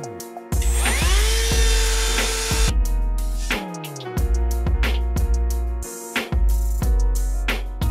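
A power tool cutting fiberglass body panels for a homemade mini VW Baja Bug, loud and close, revving up and down in repeated bursts with a whining pitch that rises and falls, a few brief pauses between passes.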